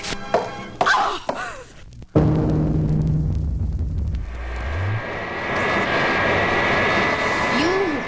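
Wonder Woman's plane in a cartoon, a few thumps and knocks followed by a loud steady engine drone that swells and carries on, with brief voice-like sounds early on.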